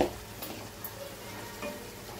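Cauliflower and potatoes fry in a pan, a faint steady sizzle with light stirring clicks and scrapes throughout.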